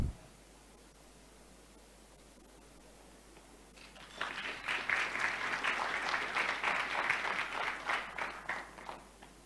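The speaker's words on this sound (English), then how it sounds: "So let us clap again for our presenters" A conference audience at the Africa Evidence Summit breaks into applause for the presenters after a quiet pause, with steady clapping that carries on to the end and fills the room.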